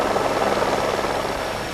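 A helicopter over a Dakar rally desert stage gives a loud, steady, dense engine and rotor roar that fills the whole short stretch without a break or any talk.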